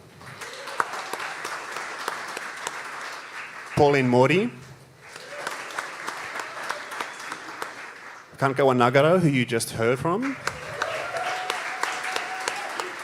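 An audience at the Australian Folk Music Awards applauds finalists, two stretches of steady clapping broken up by a speaker announcing names over a microphone.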